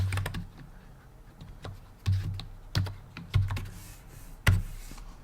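Someone types a web search on a computer keyboard: close, crisp keystroke clicks in quick bursts, with several heavier thumps like the space bar or enter key in between, alone in a quiet room.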